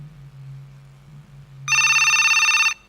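A telephone rings for an incoming call partway through, a loud steady electronic ring lasting about a second, heard after a stretch of low background hum, with no talking.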